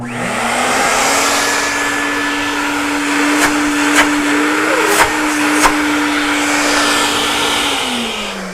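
A loud auto-detailing carpet extractor vacuum with a heater drones steadily after winding up, with a few sharp clicks and brief surges midway, then spins down at the end.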